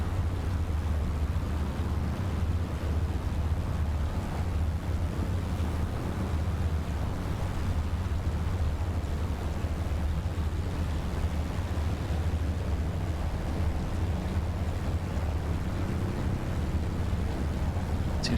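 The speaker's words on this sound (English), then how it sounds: "we do have a pretty heavy wind out here today" Heavy wind of about 18 knots on a runway in Microsoft Flight Simulator gives a constant loud roaring rush with low rumble that holds steady throughout, with no talking.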